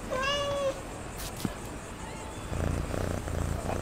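A cat lets out one clear, drawn-out meow up close, followed by quieter background noise and a soft rumble.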